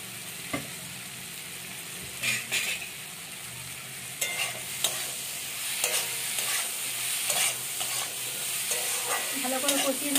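Bitter gourd curry sautés in a pan, a steady close sizzle broken by intermittent scraping stirs of a spatula over about ten seconds, with no talking.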